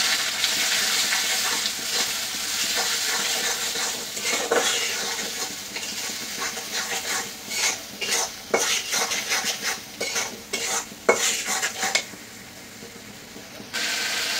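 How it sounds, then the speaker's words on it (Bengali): A spice paste with salt is stir-fried in a pan, a loud steady sizzle with rhythmic scraping and clattering of a spatula against the pan, close and without speech. "এখন পরিমাণ মতো লবণ দিয়ে ভালো করে কষাই নেব।"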